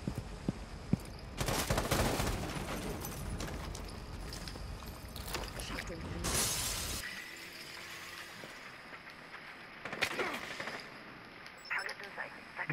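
Gunshots ring out at a window in Rainbow Six Siege, several sharp cracks spread across the first seven seconds with scattered single shots later, partly mixed with game noise and voices.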